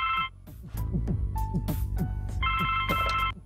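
A telephone rings in the video game The Blackwell Legacy, two electronic trilling bursts at the start and end over low background music.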